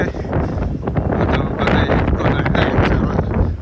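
Strong wind roars continuously into the microphone at Gaomei Wetlands in Taichung, near the red lighthouse and wind turbines, a loud, gusty buffeting with no clear speech.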